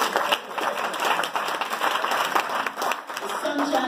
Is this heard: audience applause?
yes